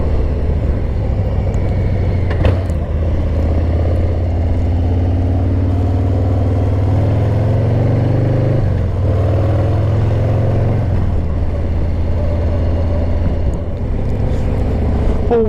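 A Harley-Davidson Heritage Softail Classic 114 motorcycle engine drones steadily and close throughout a ride, a continuous loud low rumble with slight shifts in pitch and wind or road noise layered over it.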